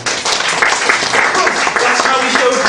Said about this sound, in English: Polite round of applause.